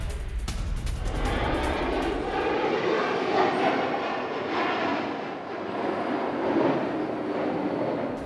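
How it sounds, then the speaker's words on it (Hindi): Fighter jets deployed over Hungary amid Russian threat roar overhead in a loud, sustained rumbling wash of engine noise that swells and fades slightly, with no voices. "हंगरी के आसमान में एक्शन मोड में जेट्स हैं"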